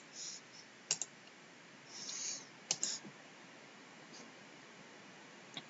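Quiet computer keyboard typing and mouse clicking during matrix entry in a spreadsheet, a few sparse clicks and short key bursts spread over several seconds against a faint hiss, with no voice.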